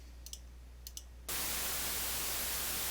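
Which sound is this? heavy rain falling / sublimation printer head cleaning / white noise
white noise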